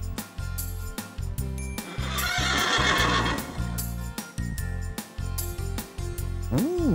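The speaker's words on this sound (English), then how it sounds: "That's a horse." A horse whinnies loudly in a long, wavering neigh that dominates the middle, set against a bright children's musical backing with clip-clopping hooves and a rising sliding tone near the end.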